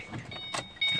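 A car key slides into the ignition of a Ford Mustang, giving a few light metallic clicks and a jingle of the key ring, close and brief, with a quiet car interior around it.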